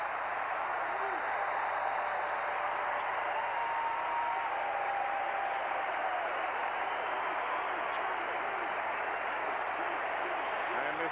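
A crowd of over 32,000 fans cheers at a 1989 Brewers at Orioles baseball game, a dense, steady roar that holds at full strength throughout without breaking.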